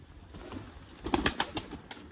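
Pigeons coo softly, with a few quick wing flutters and rustles clustered near the end; quiet and close by.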